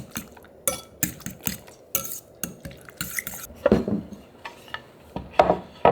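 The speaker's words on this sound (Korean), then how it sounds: "자, 골고루 잘 섞으세요" Egg and seaweed batter is whisked in a bowl, with a steady rhythm of clinking, scraping strokes against the bowl's side, close and fairly loud.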